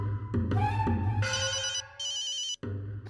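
A phone ringtone plays in a comedic scene from the Hindi TV show Jeannie aur Juju, a bright electronic melody repeating in short bursts for about three seconds with a brief gap near the end, clear and close with no talking over it.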